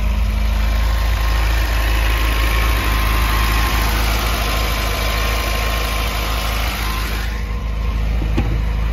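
Red 1977 MGB's engine idling steadily, a continuous low rumble with mild vibration, close and constant throughout with no voices.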